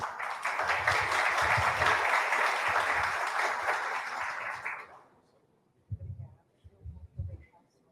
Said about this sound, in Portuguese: Salve de palmas para a Irina, por favor.